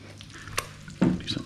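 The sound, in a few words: cumin seeds frying in a pan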